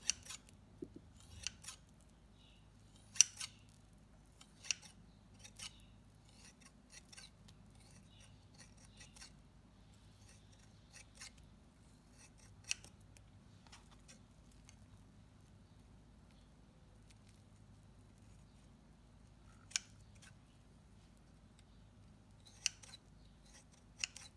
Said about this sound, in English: slice through them with shears because they're a bit chewy